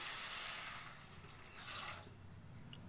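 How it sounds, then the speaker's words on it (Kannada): Water splashes and pours steadily at close range into a cooking pot of sprouted horse gram curry, a soft hissing stream that fades slightly, then picks up again with a few brighter drips near the end. "ಸೊ ಒಂದು ಚಮ್ ನೀರು ಹುಯ್ತಾ ನೋಡಿ"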